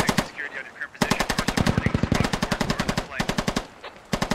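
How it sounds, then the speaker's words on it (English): Mini machine gun firing in the SquadOps combat game, a short burst followed by long rapid strings of loud, close automatic shots with brief gaps between bursts. "Actually, that was just Nightmare with a mini machine gun."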